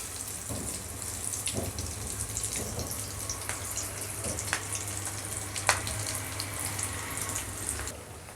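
Uggani bajji fritters frying in hot oil, a steady soft sizzle with occasional crackles and pops, close and fairly quiet, with no voices.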